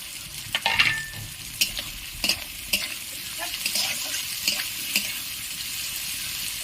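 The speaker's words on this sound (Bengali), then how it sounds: "একটু নাড়াচাড়া করে এর সাথে লাল ক্যাপসিকাম গুলো দিয়ে নিলাম" Soya chili stir-fried in a pan with green and red capsicum: a soft background sizzle punctuated by intermittent spatula scrapes and clinks against the pan, with no talking.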